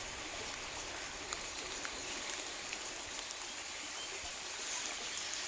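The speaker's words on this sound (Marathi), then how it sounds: "त्या बंधाऱ्यावरनं पाणी पडत आहे" Water spilling over a check dam into a swollen stream after unseasonal rain, a faint, steady rushing hiss heard from a distance, with no voices.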